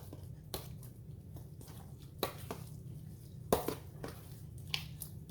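Bread dressing mixture being stirred by hand in a bowl for chicken and dressing: soft, muffled mashing with a few sharper clinks of the spoon against the bowl at irregular intervals, close and fairly quiet.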